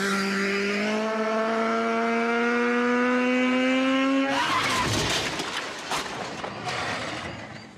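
A motorcycle engine revs out in a long, rising, strongly tonal pull, then gives way to a rougher, broken rush of riding noise as the rider sets off.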